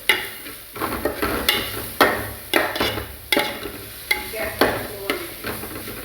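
Spices stirred into soybeans frying in a pan: repeated scraping strokes of a spoon against the pan, roughly one every half second, over a steady close sizzle, with no talk.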